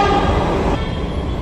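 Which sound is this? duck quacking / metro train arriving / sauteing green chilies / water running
metro train arriving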